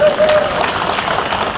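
A large crowd at a public event in Rewa with a Deputy CM applauds steadily and loudly throughout, a dense wash of clapping with some voices mixed in.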